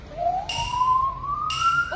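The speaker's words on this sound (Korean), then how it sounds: "사이렌 소리인데요?" A siren wails steadily with a rising tone, loud and close, sounding alone with no speech over it.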